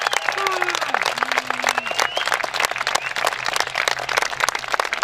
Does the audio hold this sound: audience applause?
yes